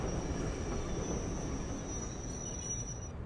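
A Class 08 shunter locomotive in Train Sim World coming to a stop, with a steady low rolling rumble and a thin, sustained high wheel squeal that fades out near the end.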